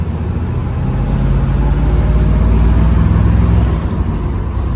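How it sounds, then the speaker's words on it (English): A 1969 Chevrolet Corvette convertible with a numbers-matching 350 hp V8 and four-speed manual drives along, its engine a loud, steady low rumble that swells slightly in the middle before easing off. "What a nice driving car. It's so effortless."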